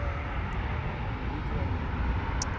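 An Embraer E2 airliner lands on the Polderbaan runway 18R at Amsterdam Schiphol Airport, with its thrust reversers engaged, giving a steady broad roar heard at a distance while people talk over it.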